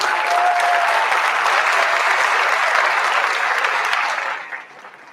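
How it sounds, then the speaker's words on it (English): Loud, dense applause from a large audience at a high school senior awards ceremony, a sustained wash of clapping that holds steady for about four seconds before fading out quickly near the end. "If we could give another round of applause."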